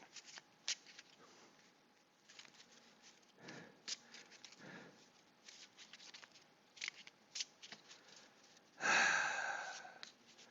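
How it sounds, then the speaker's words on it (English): Playing cards for the WW2 tactical squad combat card game being shuffled by hand, close and crisp in repeated short riffles and flicks, ending in a louder bridging cascade, with soft breathing and no talk. "Just going to spend a little bit of time shuffling these as I'm thinking about things."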